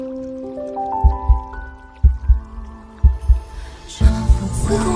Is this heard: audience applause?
no